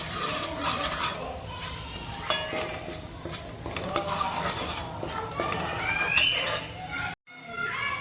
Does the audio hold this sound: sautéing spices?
yes